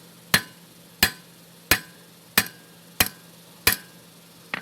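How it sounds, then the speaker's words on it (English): Round hammer striking hot metal while forging a fork on an anvil: seven sharp, ringing blows spaced roughly evenly at a steady working pace, close and loud over a faint low hum. "I'll hit all the way up to there with a round hammer"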